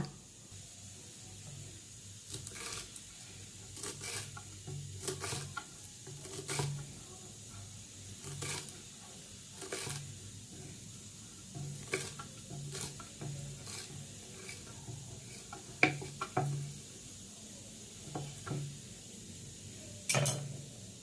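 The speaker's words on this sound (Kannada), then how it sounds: "ಕೊತ್ತಂಬರಿ ಸೊಪ್ಪು ಕಟ್ ಮಾಡ್ಕೊಬಿಡೋಣ" Fresh coriander leaves chopped with a knife on a board, a series of sharp, irregular cutting taps spread over the whole stretch against a low kitchen background, with a few louder knocks toward the end.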